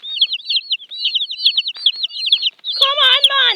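A chicken held in a basket gives a run of high, repeated clucks and chirps close by, ending in a louder, fuller burst of calls.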